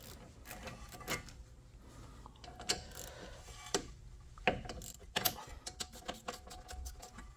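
A socket wrench ratchets a 13 mm bolt out of a brake caliper, sharp clicking bursts with metallic taps scattered irregularly across a quiet background, close and moderately loud.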